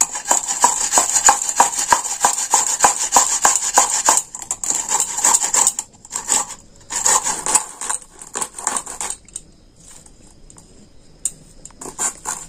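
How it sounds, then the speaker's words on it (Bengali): Beetroot is grated by hand for a Bengali pitha made with radish, producing rapid rhythmic scraping strokes in close, bright bursts that pause, resume, then thin out toward the end with no talk. "এবার আমি বিটটা কুড়ে নিচ্ছি।"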